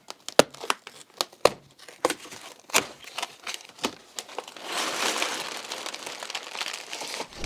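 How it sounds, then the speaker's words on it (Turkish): A LEGO Creator Expert 10248 Ferrari F40 set box is opened, with sharp crinkling and tearing of cardboard and packaging in quick irregular snaps, then a longer stretch of steady rustling, close by. "Kutuyu açıyorum."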